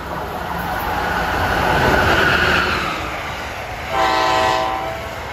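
The Amtrak Crescent, New Orleans to New York, rushes past on a busy Northeast Corridor line with a loud rolling roar that swells and eases, then a sustained multi-tone horn blast near the end.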